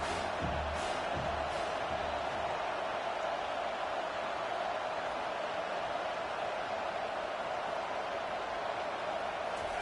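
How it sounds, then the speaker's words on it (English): Football stadium crowd noise, a steady dense roar of many distant voices that holds evenly throughout with no clear peaks. "This crowd trying to make life miserable for this offense"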